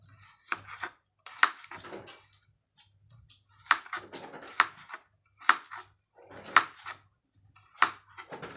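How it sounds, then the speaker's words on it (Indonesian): A knife slices garlic against a cutting board in a series of sharp, separate strikes, with short pauses between them; close and clear, no talking. "Iris bawang putih menipis atau iris tipis-tipis saja ya."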